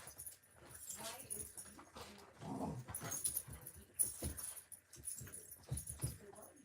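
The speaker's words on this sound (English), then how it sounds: "These fucking dogs." Two dogs playing tug of war and wrestling indoors, with continuous scuffling, growls, whimpers and yips, close by and busy throughout.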